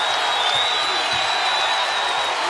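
A dense, steady roar from a packed basketball arena crowd at Chase Center during a college game, Arizona against St. John's, holding at a constant level throughout, with no distinct voices or claps standing out.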